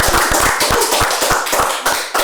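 Applause from an audience at an event introducing a candidate for chair of HIPMI Central Sulawesi, close and fairly loud, with distinct individual claps in a quick uneven rhythm.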